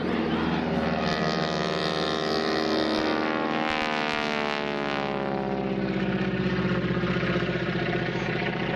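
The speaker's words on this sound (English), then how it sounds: "Everybody loves the sound of those round radial engines." A loud, droning radial aircraft engine roars continuously nearby at an airshow, with a throbbing, pulsing tone that shifts in pitch as it passes.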